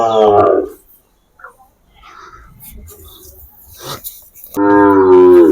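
A Sahiwal breed bull at a cattle market lets out two loud, close, drawn-out moos, one at the start and one at the end, with quiet murmuring voices and shuffling between them.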